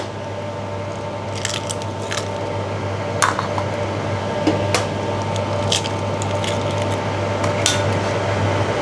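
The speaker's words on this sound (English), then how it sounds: "you break the egg" An egg cracks into a bowl of coconut milk while seafood hor mok is being mixed, a few short, soft cracking and squishing taps standing out over a steady background hum.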